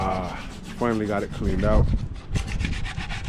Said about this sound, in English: Right now my son is sanding down the transmission